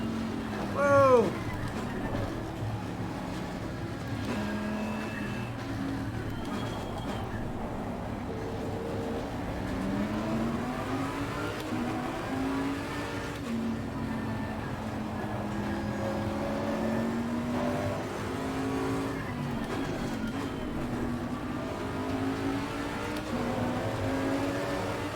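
Lamborghini racing car engines in Assetto Corsa Competizione, a steady roar with shifting pitch from a pack of cars racing close together, continuous throughout the run.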